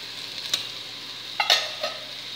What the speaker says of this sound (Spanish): le damos vuelta